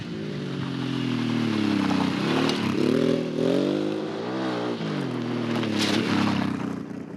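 An off-road motorcycle ridden on a dirt trail in Britain hums close by, its engine note rising and falling as the rider opens and eases the throttle, with occasional clatter and scraping from the rough ground.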